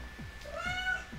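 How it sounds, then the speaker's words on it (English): A house cat gives a single soft, rising meow at close range, fairly quiet against light background noise. "Who's a good cat? You're a good cat."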